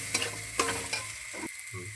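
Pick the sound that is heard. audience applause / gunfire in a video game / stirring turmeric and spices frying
stirring turmeric and spices frying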